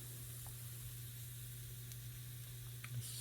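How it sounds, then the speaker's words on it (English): Food sears in a pan heated to around 400–500 degrees on a glass-top stove protected by a LoMi Mat version 4, giving a steady, close sizzle with a low constant hum and no talking. "We're searing."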